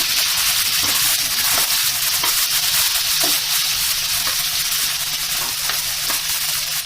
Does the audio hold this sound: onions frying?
yes